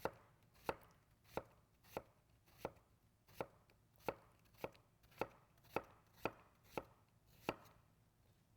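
A knife slices through food on a cutting board, producing thirteen crisp, evenly spaced chops about every 0.6 seconds. Each stroke is close and distinct, and no one speaks.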